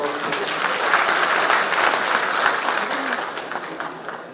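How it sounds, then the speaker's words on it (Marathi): Close, dense applause from a crowd at an MNS political event for rickshaw and taxi drivers fills the space, a sustained burst of clapping with a faint murmur of voices mixed in. "जरा टाळ्या वाजवा जरा हाजी"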